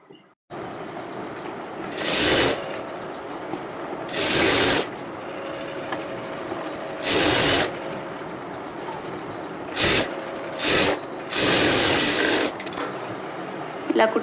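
A sewing machine stitches a blouse lining in several short bursts of loud, close whirring, separated by quieter gaps filled with background hum.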